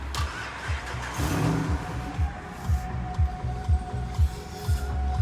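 A car engine idling nearby with a low, rhythmic pulsing throb, steady and close, with a faint higher whine above it.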